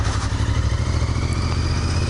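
A dirt bike engine runs steadily at close range, a buzzing mid-pitched drone with faint clatter, heard alone with no voices.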